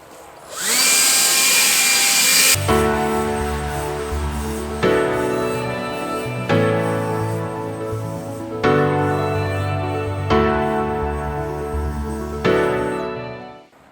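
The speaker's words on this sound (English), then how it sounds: "The leaf blower." A leaf blower roars nearby, its engine revving up in repeated surges every couple of seconds before winding down at the end.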